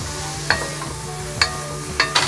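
Olive oil and chopped vegetables for a Portuguese refogado sizzle steadily in a pot, close and fairly loud. Several sharp clanks of a utensil stirring against the pan cut through the sizzle, and no one speaks.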